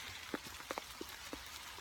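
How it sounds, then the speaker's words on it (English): Rain falling outdoors, heard as a few scattered, quiet drops and patters against a faint background hiss, with no voices. "it's raining"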